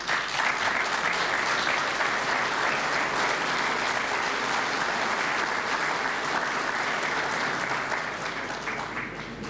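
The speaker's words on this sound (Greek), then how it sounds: "το καθυστερημένο χειροκρότημα οφείλεται στην καθυστέρηση της μετάφρασης" Sustained, dense audience applause fills the hall at a Greece–North Macedonia business forum, a steady wall of many hands clapping that holds nearly level throughout.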